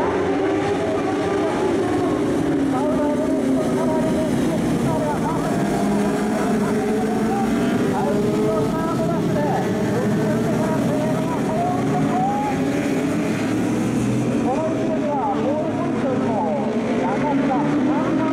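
JSB1000 superbike motorcycles roar off the start at the SUGO circuit in the All-Japan Road Race, a dense, sustained wall of engine noise with rising revs, while an announcer talks excitedly over it.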